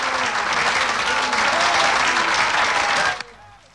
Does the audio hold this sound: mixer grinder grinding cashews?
no